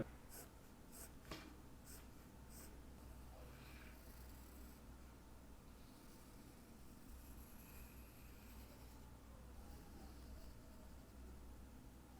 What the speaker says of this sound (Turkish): 2B kalemle çok böyle bastırmadan bir taslak oluşturacağım.